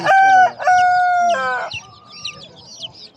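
A colourful rooster crows loudly and close at a busy Edirnekapı poultry market, one full drawn-out crow followed by softer clucks and distant market noise.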